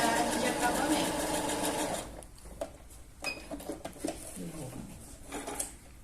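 A sewing machine stitches a temporary safety seam in patchwork with a dense, steady whir for about two seconds, then stops. Small clinks and handling noises follow, and a person talks over them.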